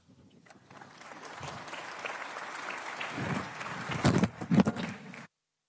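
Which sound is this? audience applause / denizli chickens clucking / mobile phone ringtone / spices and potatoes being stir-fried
audience applause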